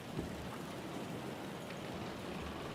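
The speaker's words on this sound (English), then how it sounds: "Oh, God, I didn't stop the rain." Steady rain falling in the video game Kingdom Come: Deliverance, a continuous even hiss of drops with faint low rumbles, filling the whole moment without any talk.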